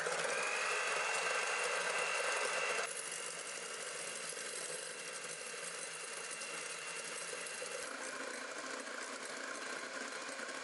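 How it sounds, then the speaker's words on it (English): Electric hand mixer on a low setting whipping egg whites with added sugar into meringue for Japanese soufflé pancakes, a steady loud motor whir that runs unbroken throughout, slightly dropping in pitch partway through. "Mix using the lowest to the second lowest setting of your mixer."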